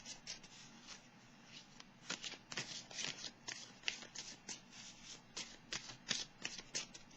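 Tarot cards shuffled by hand before a draw, a steady run of close, crisp riffling and slapping bursts lasting several seconds, with no talking over it.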